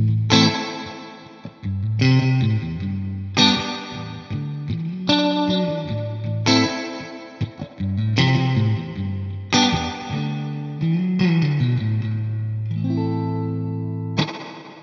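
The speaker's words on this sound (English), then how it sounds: "Let's check out a great collection of spring reverb pedals for every budget." Electric guitar played through a spring reverb pedal, a series of strummed chords and picked notes ringing out with a washy, splashy tail, loud and alone with no voices.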